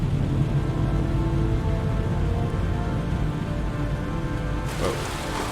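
Heavy downpour in the Heavy Rain video game, a steady dense hiss of rain on surfaces running throughout at close range, with a faint low rumble underneath and no talking.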